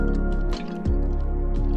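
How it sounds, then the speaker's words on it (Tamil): Synthetic perfume poured little by little into a vetiver oil soap mixture, giving soft wet squishing and dripping sounds with a brief pause partway, under steady background music. "அதை கொஞ்சம் கொஞ்சமா ஊத்திக்கிட்டு நம்ம மிக்ஸ் பண்ணணுங்க."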